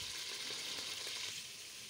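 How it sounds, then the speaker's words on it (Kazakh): Finely chopped meat frying in oil in a kazan cauldron for Nauryz kozhe, a steady, even sizzle at low volume with faint stirring and no voices. "Ең алдымен қазанымызға көз мөлшерінде сұйық май құйып алдым. Және ұсақталып туралған етіміз саламыз."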